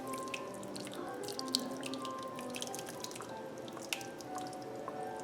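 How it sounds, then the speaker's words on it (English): Orange sauce with zest poured over baked pork chops in a pot gives soft, wet dripping and squishy splashes, quiet and close, with small sharp drips scattered throughout. "Come back with the rest of that sauce. Pour this over them."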